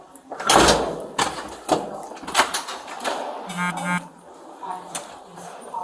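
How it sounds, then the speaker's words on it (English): A hotel room door being shut and opened, with several knocks and thuds, a latch rattle and an electronic lock buzz, while people talk over it. "I'm gonna shut the door. I gotta shut it to open it."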